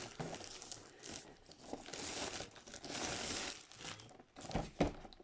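Plastic film wrapped around a candy box crinkles and rustles up close as it is handled, with bursts of crackling and a few louder crunches near the end.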